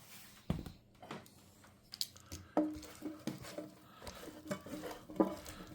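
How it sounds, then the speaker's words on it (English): Seasoned softened vegetables, mushrooms and green beans, being stirred in a bowl, with several soft clinks and scrapes of a utensil against the dish and moist shuffling in between, close and fairly quiet. "Mix everything around."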